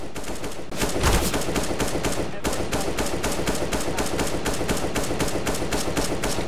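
Rapid, evenly spaced gunshots from CS:GO fired in short taps on the Nuke map, loud and close, continuing in a steady rhythm with one heavier burst near the start.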